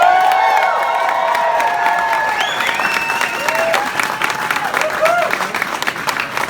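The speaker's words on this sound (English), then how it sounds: "make some noise for Andre DeShields" Loud applause and cheering from a live audience in New York welcome a stage performer, a dense, sustained wash of clapping with whoops and shouts rising above it.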